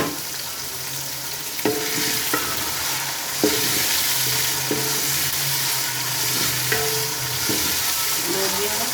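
White lobia beans frying in ghee produce a steady, bright sizzle throughout, with occasional stirring clatters and knocks against the pan.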